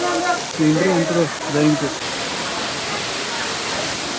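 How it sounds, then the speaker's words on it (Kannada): A waterfall in the Belagavi area roars close by as a constant, dense rush of noise, with a voice talking briefly over it at the start. "ಈ ಫಾಲ್ಸ್ ಮುಂದೆ ಎಷ್ಟು ಸೌಂಡ್ ಕೇಳಿದ್ರೆ ಗೊತ್ತಿಲ್ಲ"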